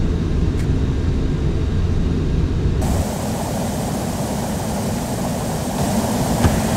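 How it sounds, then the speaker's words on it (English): Aircraft engine and wind roar as a plane stalls in Microsoft Flight Simulator X, a loud steady broadband drone that shifts abruptly partway through to a brighter, hissier rush. "as you can see it's now going out of control and the aircraft is now stalled"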